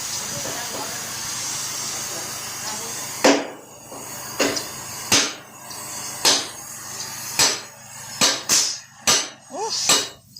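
Sharp hammer blows ring out on metal, about a dozen strikes spaced unevenly and then quickening, over a constant background hiss.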